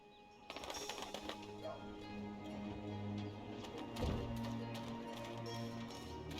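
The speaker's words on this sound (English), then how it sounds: "Talking bird!" Soft dove-like cooing from a bird in the game Dreamfall Chapters, faint and low amid quiet ambient game sounds with light tapping and clicking.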